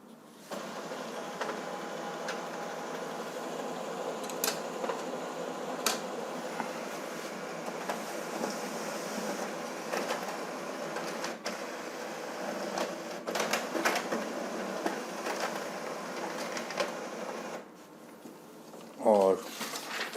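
A Brother DCP-B7500D laser printer runs a two-sided print job, giving a steady mechanical whir and hum with intermittent clicks and paper-feed rattles at moderate volume, while a voice occasionally talks over it.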